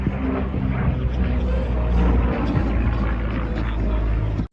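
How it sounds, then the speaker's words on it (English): An aerobatic airplane performing aileron rolls at an airshow gives a loud, continuous engine roar with a droning propeller tone, held steady for several seconds before cutting off abruptly. "Multiple aileron rolls coming through the aerobatic box."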